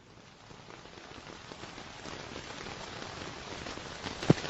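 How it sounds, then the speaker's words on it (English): Recorded rain drumming on a tent, played back from a smart speaker, a continuous patter steady and gradually building in intensity, with one brief sharp tap near the end. "Rain on tent."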